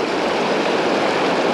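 Creek water flows steadily around a wader during a fishing outing for largemouth bass, a loud, close, broadband rushing and gurgling wash with no pauses and no voices.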